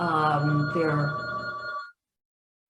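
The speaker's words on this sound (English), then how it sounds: "Oh, you know what? I realized that's my phone." A phone rings with a bright electronic tone under a voice talking, then cuts off abruptly.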